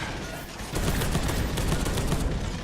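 Bolter guns fire in Space Hulk: Deathwing, a dense rapid fusillade of heavy shots overlapping into a continuous roar of gunfire with explosions, loud and close, with no talking.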